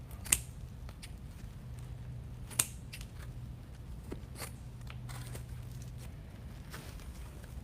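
Scissors trim deco mesh wreath bows, giving two or three sharp, brief snips that stand out over a low, steady room hum with faint rustling between cuts.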